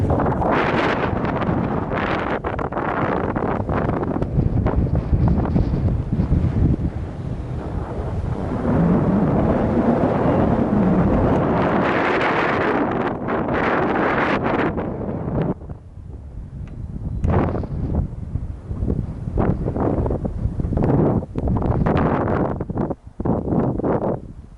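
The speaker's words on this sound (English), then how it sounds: "Besides wind." Strong wind buffets a microphone on a coastal bluff trail in Sussex, a loud continuous roar with gusts that surge and ease, dropping briefly into choppier rumbles near the end, with no voices.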